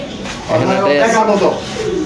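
A Lahori pigeon coos at a pigeon farm, a soft low warbling call heard close by and partly overlapped by people talking nearby.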